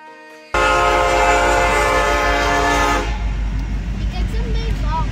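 A train passes close by with a loud, steady rumble and a piercing horn blast that holds for a few seconds. The roar continues after the horn stops, with faint short tones near the end.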